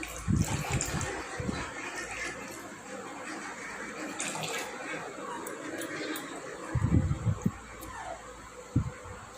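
Water splashes and trickles as a small Gopal idol coated in ghee is bathed, with soft pouring and intermittent louder splashes at close range.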